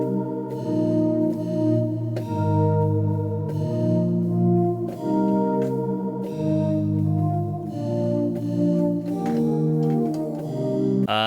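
A Serum synth preset with its volume envelope shortened so notes fade quickly, playing a steady sequence of rhythmic chordal notes with clear repeated attacks, loud and alone with no talking.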